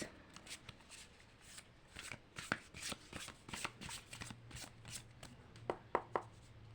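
Tarot cards are shuffled by hand at close range in a series of quick, crisp riffling bursts and soft slaps that come in irregular clusters. The sound is fairly quiet, with no speech.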